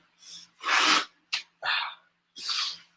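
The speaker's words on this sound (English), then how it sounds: "Yep, I'm about to sneeze." Close, quiet breathy bursts and sharp sniffs, like someone building up to and letting out sneezes, separated by short silences.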